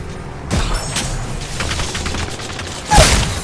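Gunfire in the Apex Legends video game while playing as Ash, clattering mechanical shots and a couple of sharper bangs, steady and close throughout.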